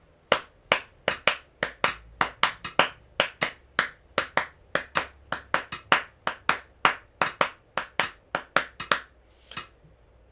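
Sharp hand claps beat out the cascara rhythm pattern, about thirty crisp strikes in a steady repeating groove, close and alone with no talk.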